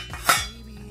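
A lid from a deep cooking pot sized for one person is handled in a kitchen, giving a single close metallic clink with a short ringing tail, heard alone.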